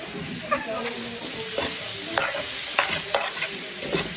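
Pork and chicken with green beans stirred in a pot, a steady close sizzle with irregular spoon scrapes and knocks against the pot.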